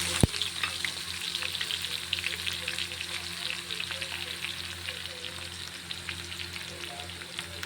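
Garlic sizzling and frying in hot oil for a spicy Nagpuri-style dal dish, with a sharp clatter at the start, then a steady bright crackle running throughout with no talking.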